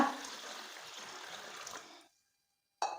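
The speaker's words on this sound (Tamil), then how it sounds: "அரிசி ஊறுறதுக்கு தண்ணி சேர்த்துக்கோங்க" Water is poured onto washed raw rice to soak it, making a soft, close trickling splash for about two seconds before it stops. A brief clatter follows after a short silence.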